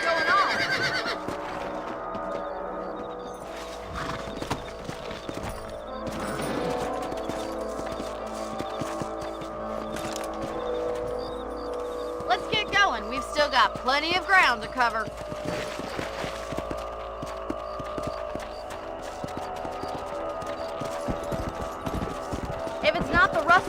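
Horses in the Red Dead Redemption video game move along with rhythmic hoof clip-clops and occasional neighs, while characters talk over the scene.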